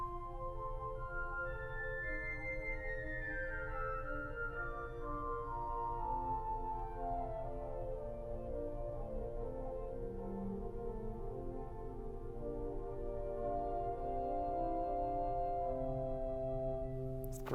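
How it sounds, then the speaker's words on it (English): A 1906 Felgemacher pipe organ plays on its concert flute stop alone, a soft, pure fluted melody with gently overlapping sustained notes over a low steady room rumble, quiet and unaccompanied. "The concert flute by itself sounds like this."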